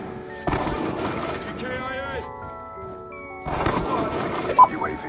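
DSR sniper rifle fire in the video game Black Ops 2: two sharp, close shots about three seconds apart, under a talking voice and tonal game sounds.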